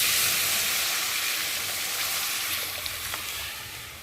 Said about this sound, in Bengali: আর এখন আমি ডাল দিয়ে ভালো করে ফুটিয়ে নেব।